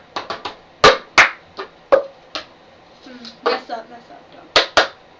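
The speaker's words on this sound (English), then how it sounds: "it's clap, clap, 1, 2, 3, pick up, clap, pick up, bang, bang, bang, bang" Cup song rhythm with sharp claps and hard knocks of a cup on a table in quick bursts and short pauses, close and loud, while a voice speaks briefly between the hits.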